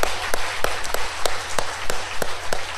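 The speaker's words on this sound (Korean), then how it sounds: "앞뒤 좌우를 한번 보시면서 한번 박수하시죠" A church congregation claps hands in thanks, a dense, steady roar of many hands with sharper periodic accents throughout, fairly loud and close, with no talking.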